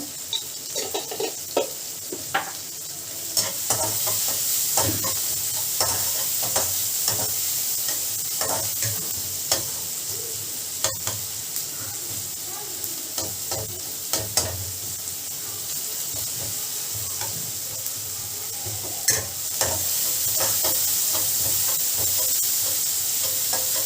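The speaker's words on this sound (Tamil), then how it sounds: "பாருங்க, நல்லா ஒரு நிமிஷம் போல் நல்லா வதக்குங்க" Potato and spinach with turmeric sauté in a pan, a steady hissing sizzle under frequent scraping and stirring clicks from a utensil, close and fairly loud, with no talking.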